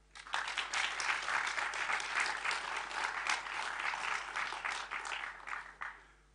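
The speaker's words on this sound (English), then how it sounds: "I would like us to applaud him" Lecture audience applauding at the Oliver Tambo Memorial Lecture, a hall full of steady clapping that rises quickly, holds for several seconds, then fades away.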